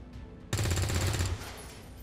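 A single rapid burst of automatic gunfire from a soldier in XCOM 2, loud and close, firing for under a second after a brief quiet moment.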